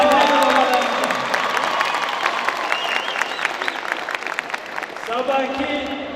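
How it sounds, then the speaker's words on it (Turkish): A crowd at a university graduation ceremony in Van, Turkey breaks into dense clapping and some cheering for several seconds, with a voice speaking before the applause and again as it fades. "Sizi büyüten velilerinize kocaman bir alkış gönderiyoruz."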